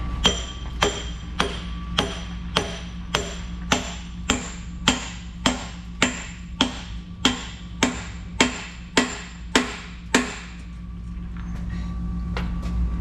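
A small sledgehammer strikes a stuck metal pin through a bolt about sixteen times in a steady, evenly spaced rhythm. Each blow is a loud, close, ringing metallic clank, then the hammering stops and a low hum is left.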